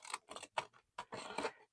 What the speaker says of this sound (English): I am going to get these scissors